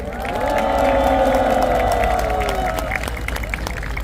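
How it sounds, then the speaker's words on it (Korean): Crowd at an overnight candlelight protest rally in Korea applauding and cheering, a dense continuous wash of clapping and voices with strong tonal melody lines from music or chanting running beneath, fading slightly after a few seconds. "박수 한번 보내주십시오"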